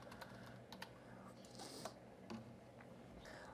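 A search term is typed on a computer keyboard: scattered quick key clicks, fairly faint and close, over a low steady room hum.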